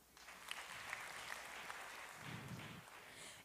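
A church congregation claps together in a faint, distant ripple of applause that holds steady for a few seconds before tapering off.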